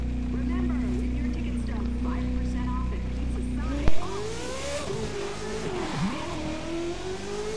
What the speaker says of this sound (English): now my BMW M4 performance race